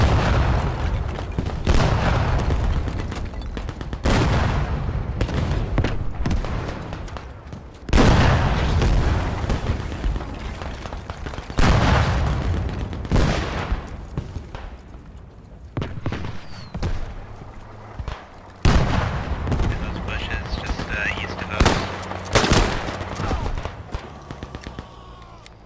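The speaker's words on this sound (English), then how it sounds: "Throwing a bomb!" In Beyond The Wire, a thrown bomb explodes amid gunfire: loud, heavy booms recur every few seconds among sharp shots and rumbling debris over a long stretch.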